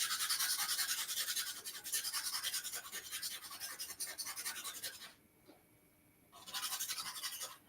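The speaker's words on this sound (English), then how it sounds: "when I get a dull point, I come back, sharpen it up real quick." Charcoal pencil being sharpened, a close, steady rapid scraping that continues for several seconds, pauses briefly, then resumes before fading.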